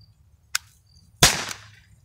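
A single shot from a modded Crosman Vigilante air pistol outdoors: a faint click followed by a sharp crack and a short ringing tail, alone in a quiet setting.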